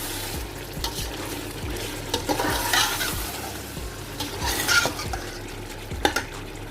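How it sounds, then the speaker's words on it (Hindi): Mutton sears in masala in a pot for pulao, a low steady sizzle broken by the scrape and clink of a spoon stirring at uneven intervals, close by and with no voices. "तो अब हम इसको अच्छे से भून लेते हैं ताकि ये मसाला इसके अंदर तक अच्छे से मिक्स हो जाए।"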